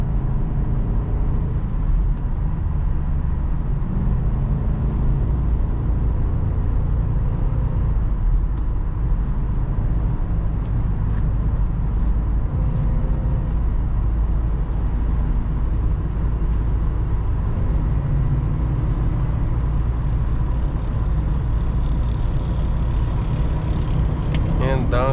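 A remapped 309 hp BMW X5 E53 4.4i V8 cruises on a German Autobahn, its steady engine drone and road rumble filling the cabin at a constant loud level throughout, without clear gear changes.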